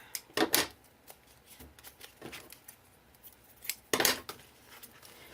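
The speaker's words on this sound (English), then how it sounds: "I'm just going to cut this off the tip here." Scissors snip through the paper binding tip of a small handmade mini album, leaving a few crisp cuts in short clusters with quiet pauses between them, close by and with no talking.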